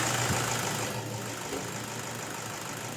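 Toyota Hilux engine at 214,000 km idling steadily after a restart, a faint thin drive belt whistle riding over the low, even rumble, recorded close with no talk.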